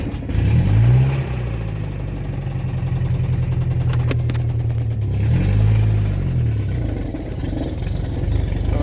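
A 1999 Mazda B2500 pickup that sat for half a year cranks and catches, rising into a loud rev, settling to a rough mid-pitch idle, then revving up and back down again, close and unbroken.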